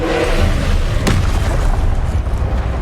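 The Confringo explosion spell goes off in the video game Hogwarts Legacy, a loud, dense rumble with a sharp burst about a second in, held under continuous booming game sound.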